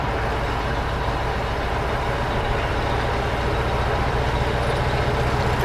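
Steady low engine rumble and road drone from inside a '57 vehicle cruising along a road in Maui, heard from the driver's seat, continuous and even with no talking.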